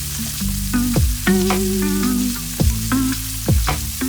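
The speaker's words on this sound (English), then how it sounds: "Return the garlic to the pan, crushing it up and dispersing it among the sprouts." Brussels sprouts and crushed garlic fry in a pan with a steady sizzle, broken by a few scraping stirs and clatters of a utensil against the pan.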